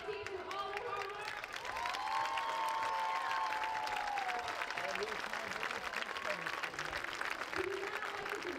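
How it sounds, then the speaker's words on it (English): A crowd at a high school varsity football game applauds both teams, a sustained wash of clapping and cheering over several seconds with a voice talking over the loudspeaker. "Let's give a big round of applause to both teams for all their hard work."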